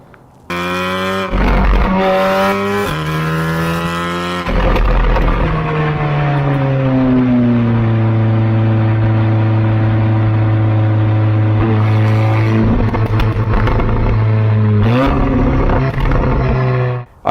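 A stage 3 tuned Audi S3 (512 bhp) revs hard and holds a deep, throaty exhaust drone, pitch sweeping down and climbing again, loud and close.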